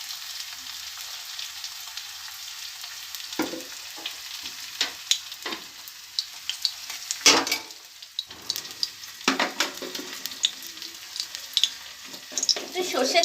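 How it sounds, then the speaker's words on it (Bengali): Mustard oil heats in a kadai with onion, fenugreek greens to follow: a soft hiss with irregular bursts of crackling sizzle and stirring scrapes, growing busier toward the end. "তো চলো পেঁয়াজটাকে একটু লাল লাল করে ভেজে নিই"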